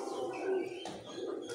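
Several female pigeons coo close by, giving soft, throaty, rolling calls in a short burst with no talking.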